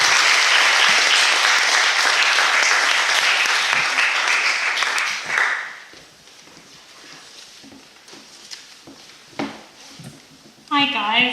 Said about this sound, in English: Please put a hand of applause for our speakers.